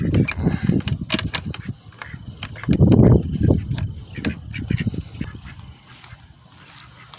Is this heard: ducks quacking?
yes